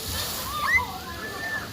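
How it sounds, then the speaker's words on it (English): A water park geyser splashes and sloshes outdoors, with rushing spray under excited children's voices and a whoop. "Audrey and Ace got the big geyser."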